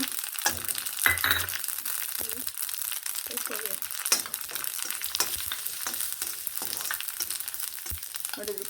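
Avarebele mixture sizzles and crackles steadily in a pan of hot oil, with scattered stirring clatters over the continuous frying hiss.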